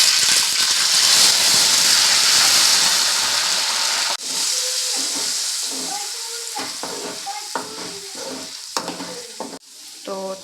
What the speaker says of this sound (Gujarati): તેલ આવી ગયું એટલે ડુંગળીનો વઘાર કરી નાખીએ